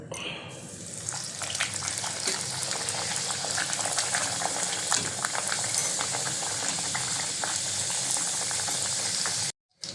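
A luchi, a puffy deep-fried Bengali flatbread, fries in hot oil in a wok with a steady, dense bubbling sizzle that runs close and loud throughout, cutting off briefly near the end.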